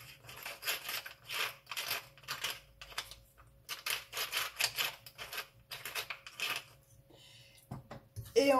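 Fork mixing and mashing seed cracker dough in a bowl, giving soft repeated scraping and clicking strokes in uneven bursts with short pauses, close and fairly quiet.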